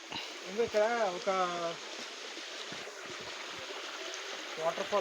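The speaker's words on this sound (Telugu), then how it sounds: "మొత్తం వాటర్ అయితే ఇట్లా వస్తున్నాయి, ఇటు వెళ్ళిపోతున్నాయి కిందికి ఈ వేలో." Fresh water flows down from a hill near a fort trek in Lonavala, a steady broadband rush like a small waterfall, continuous and fairly close, with a person talking over it at the start and end.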